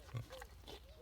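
A pig on a farm gives short, soft grunting oinks in a quick cluster, close by and fairly quiet, with no talking.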